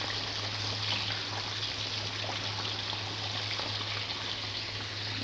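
Water poured into a pot of hilsa fish cooking with eggplant and cauliflower, a steady rushing, splashing flow running continuously at close range with no talking over it.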